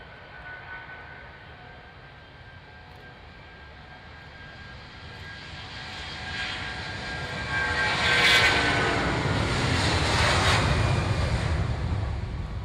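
A propeller airplane takes off from runway 27, its engine drone building steadily from a moderate hum into a loud, broad roar that peaks and holds near the end, with no voices.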